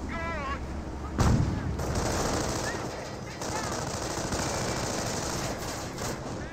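Company of Heroes battle audio: sniper shots and rattling MG42 machine gun bursts with artillery thuds, a loud crack near 1.2 s, dense continuous gunfire throughout.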